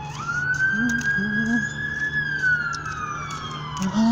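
A sheriff's car passing with its siren wailing, a loud rising and falling tone sweeping close by over a steady engine hum, with short vocal sounds in the background.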